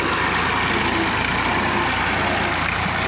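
A tractor engine runs loud and close while it threshes a lentil crop, giving a steady, rough low rumble with a dense mechanical roar layered on top and no talk.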